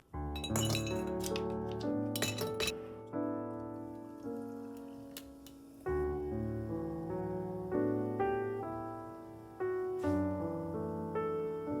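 Glass clinking and ringing as a can of Coke is served, bright resonant chimes in repeated bursts that linger and decay, close and clear with no talking.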